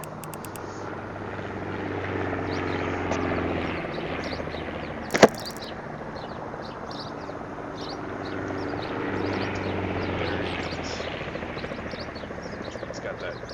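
An aircraft flies by during an Arma video game mission, heard as a steady broadband roar that swells gently and holds for the whole stretch, with one sharp click partway through.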